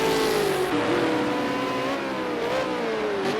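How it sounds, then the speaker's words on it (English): A race car engine roars continuously at close range, its pitch dropping in steps as it shifts down through the gears. "You can hear the downshifts."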